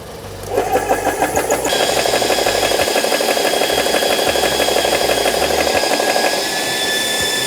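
A car engine runs steadily close by, starting up with a rough onset and then holding an even, loud idle rumble with no one speaking.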